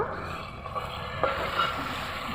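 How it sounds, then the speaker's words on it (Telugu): Chopped tomato pieces frying in a pan give a steady close sizzle with a few stirring scrapes, continuous and moderately loud with no voices. "కొంచెం మగ్గినాక కట్ చేసుకున్న టమాటో ముక్కలు వేసుకోవాలి."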